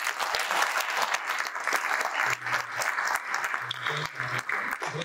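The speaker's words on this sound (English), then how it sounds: "So a big round of applause for that." An audience claps steadily, a dense wash of applause filling the whole stretch, loud and close.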